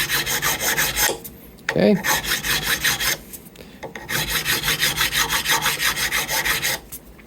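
Fret file rasping across the frets of a 1959 Custom Shop Fender Stratocaster neck in rhythmic back-and-forth strokes, close and loud, with brief pauses between passes and a single short spoken word.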